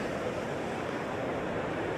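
Ocean surf washing onto a sandy beach where beach worms are being hunted, a steady broadband roar of breaking and receding water with wind noise, fairly loud and continuous, no voices.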